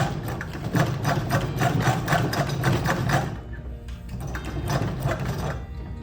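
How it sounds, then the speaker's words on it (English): An old treadle sewing machine stitches fabric with a fast, steady mechanical clatter, close and loud, briefly slowing and pausing before running on again. "I have never sewn on a treadle before, so it's a new experience."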